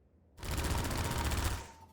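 Airboat gun in Half-Life 2 firing one rapid sustained burst, a dense loud rattle that starts abruptly, holds for over a second, then cuts off and fades.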